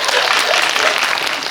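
Audience applause at a Korean film special screening event, a steady dense wash of clapping from a crowd filling the whole moment, loud and close, with no talking over it.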